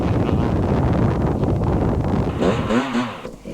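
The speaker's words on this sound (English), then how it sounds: "it was very windy up here." Strong wind buffeting the microphone on an open hilltop at an enduro championship, a steady loud roar throughout with a brief engine-like tone near the end.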